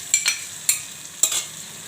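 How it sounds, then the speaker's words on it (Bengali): Small shrimp are heated and stirred in a frying pan with a faint background sizzle broken by three or four close, sharp scraping strokes of the utensil, with no talk. "চিংড়ি মাছটা গরম করছি,"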